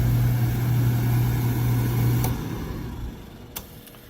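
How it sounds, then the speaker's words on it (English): Oil burner motor running with the flame lit, a loud, steady close hum and roar that drops in level partway through and continues more softly, with a faint click near the end. "Burner motor's on, transformer's on, and it lit right away."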